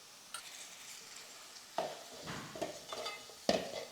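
Curry powder frying in a pan with onions and whole tomato pieces for a tamarind onion kuzhambu, a steady low sizzle broken by a few sharp spoon-stirring scrapes and clinks, close and without talk.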